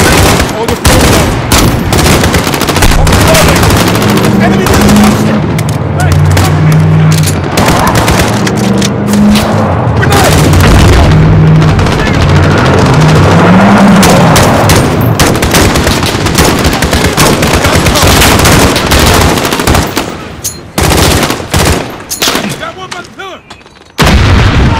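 Sustained gunfire and heavy explosions fill a Call of Duty Modern Warfare firefight during a US Embassy siege, with a grenade blast among rapid machine-gun bursts, loud and dense throughout, briefly thinning near the end, with shouted voices mixed in.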